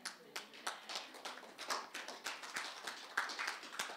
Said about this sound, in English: Your hand clap is like it has COVID.